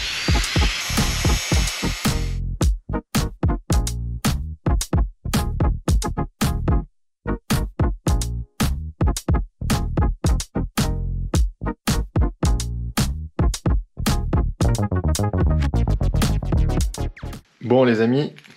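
A jigsaw fitted with a knife blade cuts through wood fibre insulation for a ceiling, making loud rapid rasping strokes in repeated bursts with brief pauses between them, close to the listener.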